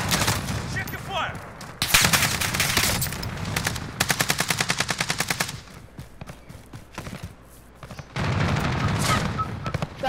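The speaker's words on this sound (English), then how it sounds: "those machine guns melt, bro" Loud automatic machine gun fire in a Call of Duty: Modern Warfare match, several sustained bursts including a clearly pulsing rapid stream, with quieter gaps between volleys.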